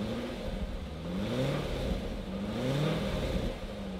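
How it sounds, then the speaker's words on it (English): A Corvette C8 Z06 with a damaged intake and faulty MAF sensor runs at a salvage auction. Its engine drones steadily and close, rising and falling through a couple of gentle revs, with no talking. "Good, quiet engine"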